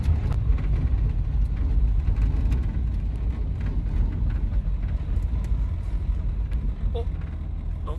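A 1960 Rambler American car engine idles with a low, steady rumble close by, dipping slightly in level partway through, and a few faint clicks and knocks come toward the end.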